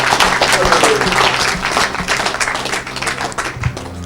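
A congregation at an evangelist's worship service breaks into loud, dense clapping and cheering, a sustained wash of applause with voices shouting through it.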